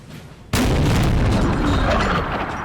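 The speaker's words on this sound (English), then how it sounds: "Artillery firing at the cavalry that are skirmishing" Artillery guns fire in the Napoleonic battle game Napoleon Total War, aimed at skirmishing cavalry: one loud, sudden boom that rolls on into a sustained, dense rumble of battle noise, with no talking.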